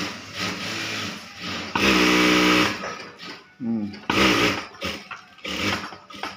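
A sewing machine stitches fabric for trouser waistbands in short bursts of rapid, whirring mechanical chatter, close and moderately loud, alternating with a person talking between runs.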